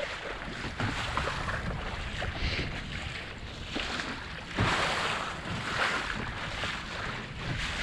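Waves washing around a Sunfish sailboat on Lake Superior near Isle Royale, a steady roar of splashing water and wind with surges of louder surf throughout, close and with no speech.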